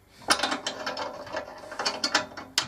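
A wood lathe's tool rest is tightened down with a rapid series of ratcheting clicks and mechanical clatter, close and fairly loud, ending in a sharp final snap.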